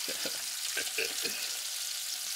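Trout fries in butter in a pan with a steady, close hiss of sizzling, broken by a few soft stirring or scraping taps early on.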